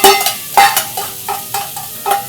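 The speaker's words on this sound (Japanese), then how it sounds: "強火で一気に炒めていくんですけど" Ingredients stir-fried fast in plenty of oil over high heat for a chilled tantanmen, sizzling loudly with repeated bursts of scraping and tossing in the pan in a steady rhythm.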